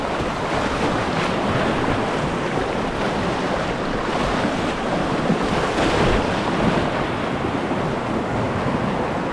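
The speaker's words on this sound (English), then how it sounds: "First white water in this boat. And here's the first rapid." Boat running a whitewater river rapid, with a loud, continuous broadband rush of churning water and wind buffeting close to the microphone, steady throughout without pauses.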